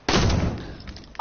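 A single sharp sniper shot in a video game cracks out loud and close, then its boom fades into a short tail.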